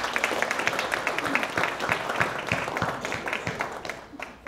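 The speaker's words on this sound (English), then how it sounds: "So let's give them a round of applause." Guests at an interfaith community brunch give a round of applause, a dense patter of many hands clapping steadily before trailing off at the end.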